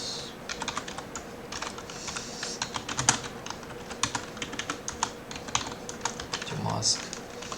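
Rapid, uneven clicking of computer keys as code is typed, a close clatter continuing for several seconds with a faint voice in the background.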